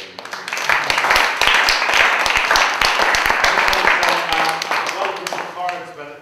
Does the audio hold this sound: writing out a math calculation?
no